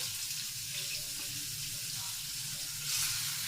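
Minced meat (keema) sizzling in a couple of spoonfuls of hot cooking oil in a pot: a steady, close, broadband frying hiss that swells slightly near the end, with no voices.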